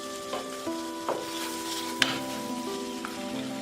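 Chinese vegetables and spices stir-fried in a pan with a steady sizzle, broken by a few sharp scrapes and knocks of a spatula against the pan, close and alone without talk.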